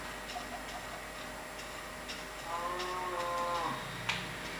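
A Minecraft cow gives a single drawn-out moo in the middle of the stretch, moderately close, over faint ticking game ambience and with no talking.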